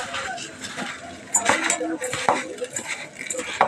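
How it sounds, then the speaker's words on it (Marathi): Rice tipped into boiling water in a home kitchen pot, with clinks and rattles of utensils against metal and soft splashing, close and fairly faint. "तेल लावून तांदूळ टाकून देणार"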